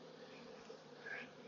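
A fallen honeybee swarm hums on the ground, a steady, close, continuous buzz of many bees with a slight swell near the end; no talking.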